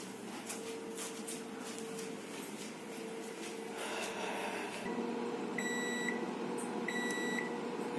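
An appliance beeps as rice finishes cooking in a small room: two short bursts of repeated high beeps sound clearly over a steady hum.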